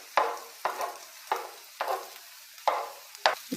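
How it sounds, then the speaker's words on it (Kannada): A spoon chops food into small pieces in a pan for chicken fried rice, striking about six times in an uneven rhythm, each sharp scrape or tap followed by a brief soft sizzle. "ಸಣ್ಣದಾಗಿ ಪೀಸ್ಗಳಾಗಿ ಕಟ್ ಮಾಡ್ಕೊಳ್ತೀನಿ ಈ ಥರ ಸ್ಪೂನಲ್ಲಿ."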